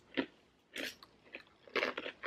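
Crisp bites and crunching of a fortune cookie, close and alone, with a sharp bite followed by several rapid crackly crunches in uneven bursts.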